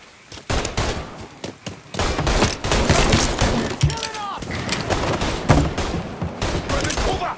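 Gunfire in the video game Mafia III: repeated rapid shots and bursts fire nearly nonstop, loud and dense, with shouted combat voices mixed in.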